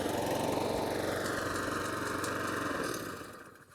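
Walk-behind lawn mower engine pulled into life with its starter cord, running loud and steady at close range on its own before cutting off and dying away near the end.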